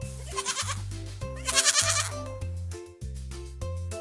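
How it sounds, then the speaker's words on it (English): A baby goat bleats in a string of short, wavering, high cries, fairly close and repeated several times with brief gaps between them. "Baby goat."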